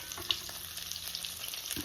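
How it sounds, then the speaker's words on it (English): Onion petals frying in hot vegetable oil, a dense, steady close crackle and sizzle with small pops throughout, no voices. "So let's start putting our onions in the oil."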